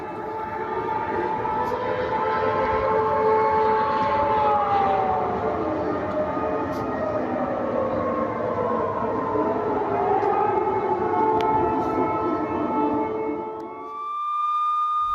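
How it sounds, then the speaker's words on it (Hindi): Air raid sirens wail across Russia, from Belgorod to Moscow, during a missile attack alert, in long, rising and falling tones that overlap one another, loud and steady, then cut off abruptly near the end. "बेलगोरोद से मॉस्को तक सायरन बज रहे हैं"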